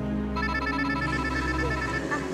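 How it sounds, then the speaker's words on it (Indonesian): A telephone rings in a domestic drama scene, its repeating electronic tones steady and fairly loud over a continuous background hum, with no pauses between rings. "Sebentar saya angkat telepon dulu ya."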